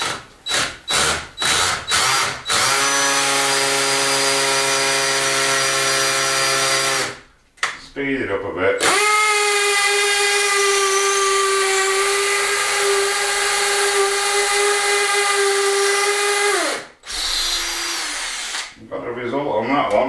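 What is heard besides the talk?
hammer drill drilling into sandstone or marble wall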